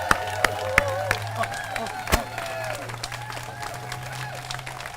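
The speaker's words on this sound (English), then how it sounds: "Let's give him a rousing round of applause." A crowd at the Moral Monday rally in Charlotte applauds and cheers, a steady wash of clapping and voices heard at a moderate distance, with a few sharper claps and a low hum beneath.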